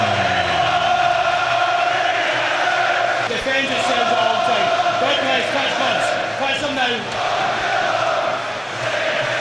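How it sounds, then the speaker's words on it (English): A loud, dense boxing arena crowd roars and cheers continuously before a fight, with scattered shouts and whistles rising above the steady din. "The fans are going absolutely crazy, and this hasn't started yet."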